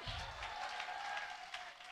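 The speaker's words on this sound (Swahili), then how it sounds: "Makofi kwa Pasta Julia" A church congregation claps for Pastor Julia in a brief, fairly faint burst of applause that fills the room, with a voice briefly audible at the start.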